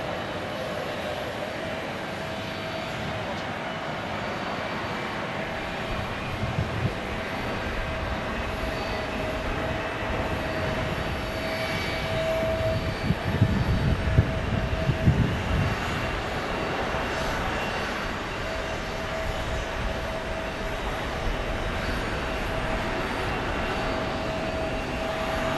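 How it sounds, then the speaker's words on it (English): An American Airlines Airbus A321 arriving from Las Vegas lands at Phoenix Sky Harbor, a long steady jet roar with a thin whining tone that swells slightly midway, heard from a distance. "So this is our A321 landing from Las Vegas for American Airlines."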